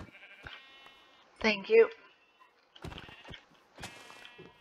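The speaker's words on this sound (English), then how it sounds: "Oh, there is more sheep." Sheep bleat in the video game GemCraft DragonFire, a loud wavering call standing out among short game effects, with a voice talking briefly nearby.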